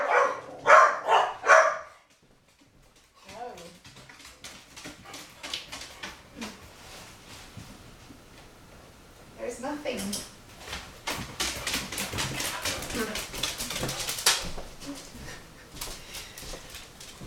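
Dogs barking in a loud cluster at the start, then scattered woofs and whimpers later, with a person speaking briefly in between.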